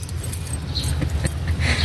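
A bunch of keys jingles and clinks in short metallic bursts, close by, with a low background rumble underneath and scattered light rattles.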